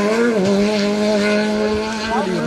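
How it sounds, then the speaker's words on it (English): A Peugeot 208 rally car screams through a special stage at Rally Wervik, its high engine note rising and dipping with gear changes, loud and close, with a brief tyre squeal. "frantic engine note"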